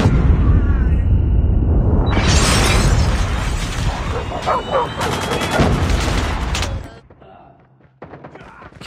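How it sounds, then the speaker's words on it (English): A predator missile explosion in a first-person shooter game erupts as a loud, dense blast of booming gunfire-like bursts and crackling debris, sustained for several seconds before cutting to a quieter tail with scattered pops. "Hostile predator missile inbound."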